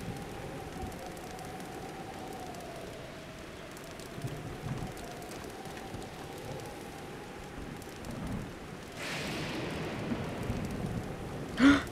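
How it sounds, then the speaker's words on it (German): Steady rain with a distant rumble of thunder during a storm in the video game The Legend of Zelda: Breath of the Wild, a constant hiss under a low hum, growing brighter and louder near the end. "Ey, jetzt haben wir auch noch Sturm."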